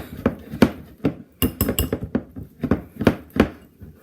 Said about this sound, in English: Whisk it, and it's kind of, you gotta whisk it kind of hard